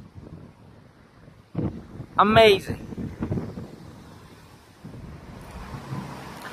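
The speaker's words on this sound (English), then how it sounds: "And it is getting windy." Gusty wind buffets the microphone with a low, rumbling roar throughout, and a short exclaimed voice cuts in briefly.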